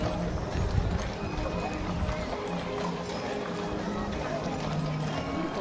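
Hooves of an eight-horse hitch of dark horses clip-clopping on pavement at the Waverly, Iowa Heritage Days parade, amid a noisy outdoor crowd, with a faint whinny and general parade bustle.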